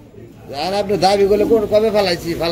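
Pigeons at a pigeon sale coo in soft, rolling calls close by, mixed with someone talking over them.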